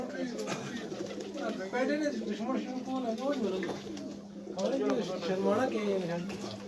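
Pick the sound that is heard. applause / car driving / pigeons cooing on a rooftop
pigeons cooing on a rooftop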